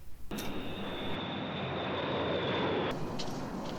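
Steady airplane engine drone heard inside the cabin in the 1971 film The Andromeda Strain, a loud continuous roar with no talking.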